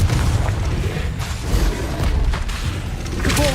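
A Confringo explosive spell blast in the Hogwarts Legacy video game, heard as loud, rumbling booms and bursts that fill the whole stretch without letup.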